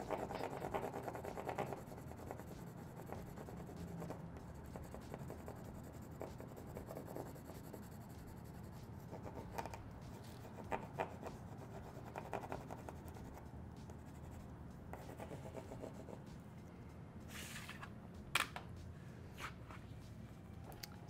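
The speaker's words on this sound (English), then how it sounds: "I'm gonna fill up my whole page with crayon rubbings." Crayon rubs steadily across paper to make a textured rubbing, a soft continuous scratchy scraping with irregular strokes, faint and close, with no talking.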